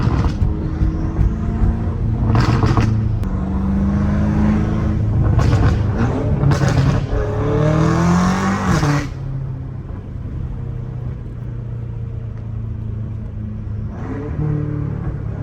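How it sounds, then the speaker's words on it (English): A BMW M5 F90 Competition with full titanium exhaust and downpipes revs hard several times up close, rasping and roaring, then settles back to a deep rumbling idle. "This car sounds so good now."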